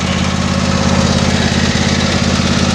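A Husqvarna YTA24V48 riding lawn mower with a 24-horsepower Briggs & Stratton Intek engine runs at a steady idle, close and constant, with a humming vibration throughout.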